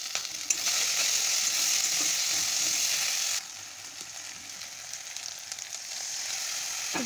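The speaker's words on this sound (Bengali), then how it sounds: "মশলাটা আমি ভালো করে কষিয়ে নেব" Masala of tomato, ginger paste, turmeric, salt and cumin powder fries in a pan with a steady, bright sizzle, softening partway through, while it is stirred now and then.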